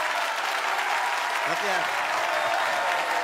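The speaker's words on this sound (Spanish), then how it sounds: "Un doble aplauso." An audience breaks into steady, dense applause at a live performance after a song, with someone briefly speaking over the clapping.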